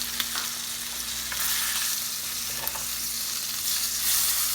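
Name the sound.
filet mignon frying and being basted in a pan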